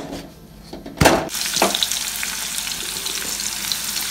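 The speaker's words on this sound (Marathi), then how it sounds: "आता या गरम तेलामध्ये पहिल्यांदा कांदा आणि मिरची गुलाबी रंग येईपर्यंत मस्तपैकी परतून घेणार आहोत" Onion and chili frying in hot oil in a kadhai for a Konkan village meal, a sharp sizzling burst as they hit the oil, then a steady crackling hiss that carries on without talk.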